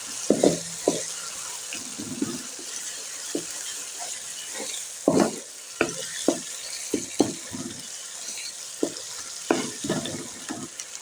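Dhaba-style aloo gobi being mixed with salt in a frying pan: intermittent spatula scrapes and clacks sound up close over a steady background hiss of cooking.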